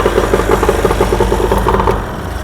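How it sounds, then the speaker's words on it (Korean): The small outboard engine on a fishing boat runs just after starting with the choke pulled out. It idles with a loud, close, rapid pulsing throb that stays steady and eases slightly at the end. "자, 시동이 이제 걸렸어요."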